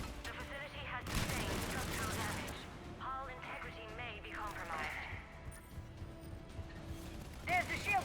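Gunfire in Mass Effect 3 as Cerberus turrets are shot down, dense bursts of shots and impacts layered over game music and effects, with talk over parts of the action.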